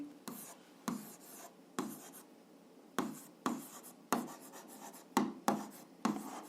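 Handwriting during an eighth-grade physics lesson, a pen scratching across a surface in short repeated strokes, close and quiet with no voice over it.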